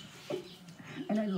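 A backyard pet hen in a flock of about fifty chickens gives a few short, close clucks in quick succession, fairly quiet overall.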